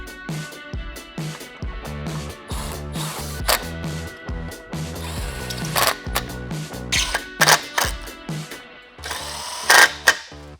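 An impact driver set to its lowest setting drives T30 Torx fasteners to mount a wind deflector to a vehicle roof rack, with loud close bursts of whirring and rattling hammering separated by short pauses and no talk.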